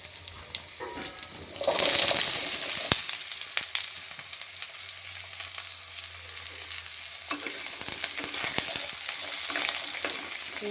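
Potatoes fry with whole cumin seeds in hot oil for a coconut vegetable curry, giving a steady close-up sizzle that swells briefly as they are stirred, with scraping stir sounds throughout and no talking.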